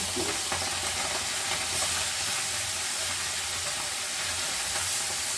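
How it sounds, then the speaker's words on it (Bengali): Kajli fish frying in hot oil for a Bengali fish curry with mustard greens, giving a steady, close, fairly loud sizzle and hiss that runs unbroken throughout, with no one talking. "হ্যাঁ আমি মাছটাকে ভাজছি দেখুন ছড়িয়ে ছড়িয়ে"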